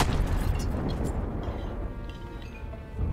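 A bomb explodes in the World War I shooter Battlefield 1, a heavy rumbling blast with a long low roar that slowly decays, loud and close.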